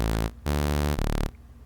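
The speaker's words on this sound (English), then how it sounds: "It's just a saw wave." A raw saw wave bass preset from the free Helm synth sounds as buzzy, bright sustained notes in short separate bursts with small gaps between them, nothing else playing.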